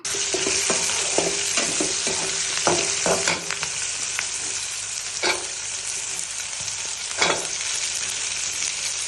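Garlic sizzles steadily in hot oil for a Tamil kara kuzhambu, a close, continuous frying hiss broken by repeated scraping stirs of a spatula against the pan.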